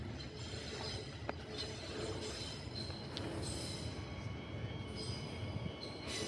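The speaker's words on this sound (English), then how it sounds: "crossing over from the inbound tracks onto platform 4. That is a airport train again" A passenger train on Perth's Fremantle Line, an airport train, rolls in at moderate distance crossing onto a platform, wheels rumbling and clacking with occasional high squeals as it slows, no voices present.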